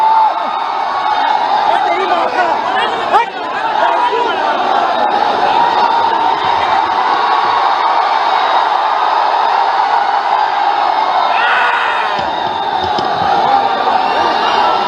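A large crowd at an outdoor political rally in Arrah cheers and shouts loudly and steadily to welcome Rahul Gandhi, a dense roar with whoops and scattered voices that never lets up.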